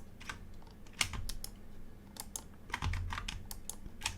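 Close keyboard taps and mouse clicks come in an irregular scatter while someone works in Blender 3D modeling software, with no voices.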